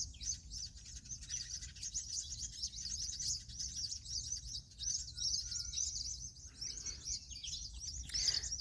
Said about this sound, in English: there's just so many little birds in that bottlebrush tree.